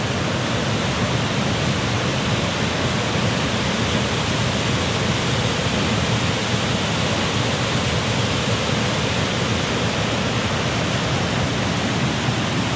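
A waterfall on Oregon's Trail of Ten Falls at Silver Falls roars steadily, a dense, unbroken rush of falling water filling the whole clip.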